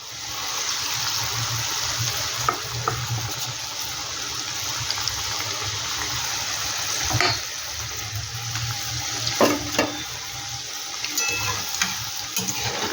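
Chilli jackfruit (echor) frying in oil in a home kitchen, a steady broad hiss and crackle running throughout, with a few sharper pops and a low hum beneath.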